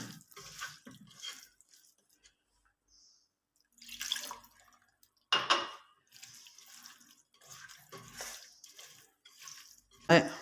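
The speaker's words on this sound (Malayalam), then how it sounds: "ഇനി ഇതിലേക്ക് നമുക്ക് കുറച്ച് വെള്ളം ഒഴിക്കണം" Water poured into a fish peera mixture in a home kitchen, heard as a few short, separate splashing bursts with quiet gaps between them.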